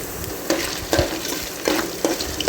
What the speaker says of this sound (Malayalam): തേങ്ങാക്കൊത്തിട്ട് കൊടുത്ത് നമ്മൾ ഫസ്റ്റ് അത് ചെറുതായിട്ടൊന്ന് മൂത്ത് വരുന്നിടം വരെ വെയിറ്റ് ചെയ്യണം.